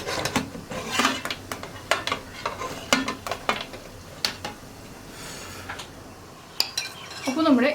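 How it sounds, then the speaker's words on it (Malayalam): Metal plates clatter and scrape in an idli steamer while kinnathappam, a traditional steamed cake, is being made. Sharp, close metallic clinks and knocks come in irregular bursts, with a louder rattle near the end. "അപ്പോൾ നമുക്കിനി ഇഡ്ഡലിത്തട്ടിൽ നിന്ന് മാറ്റിയിട്ട് അടുത്ത പ്ലേറ്റ് വയ്ക്കാം"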